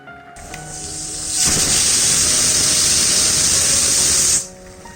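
A pressure cooker cooking a rice-free pongal of bansi rava lets off steam in a loud, steady, close hiss that swells after a second and holds for about three seconds before stopping abruptly.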